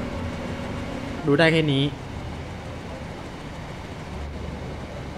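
An electric passenger train in the Train Sim World 5 video game gives off a steady rolling rumble and hum throughout, with a brief spoken phrase over it early on.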